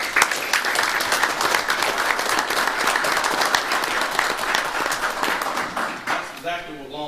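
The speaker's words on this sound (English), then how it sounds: "I'd like to give Sergeant Clay McCullough a round of applause" Audience at a council meeting applauds Sergeant Clay McCullough: dense, even clapping from a roomful of people for about six seconds, then fading out as a voice resumes.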